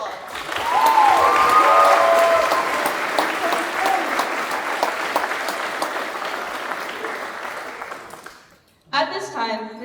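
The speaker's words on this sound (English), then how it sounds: "please give all our awardees a big round of applause" A crowd at a high school JROTC battalion award ceremony applauds the awardees with loud, sustained clapping that gradually thins out. Someone starts speaking right after it ends.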